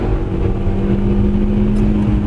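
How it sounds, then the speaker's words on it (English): A 2017 Kia Soul Turbo engine revs hard under steady acceleration toward redline, a loud continuous close-up drone with a strong low hum and no pauses or talk. "Rev it up. Try to let it go to red line each time, and away we go."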